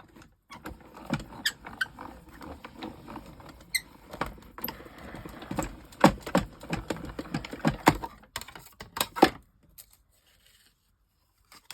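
Scissors cut a small scrap of black material, giving a run of quick, irregular close snips and papery rustles that grow busier for about nine seconds, then stop into near silence.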